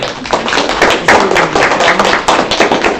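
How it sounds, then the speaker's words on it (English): Audience members applaud a guest speaker at a campus Republican club event, individual claps close and loud, forming an uneven, lively patter of a modest crowd. "let's give a round of applause"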